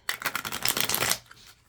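A quick riffle of tarot cards being shuffled, a close, crisp rapid flutter lasting about a second, then fading out.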